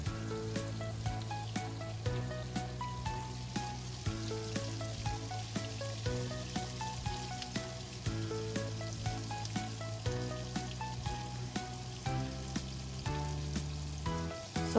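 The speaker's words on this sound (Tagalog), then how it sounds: "isasauté natin yung mga chopped onions" Chopped onions sauté in a frying pan after pork has been fried in it, giving a steady, continuous sizzle that holds level throughout, close and alone, with faint clinks over it.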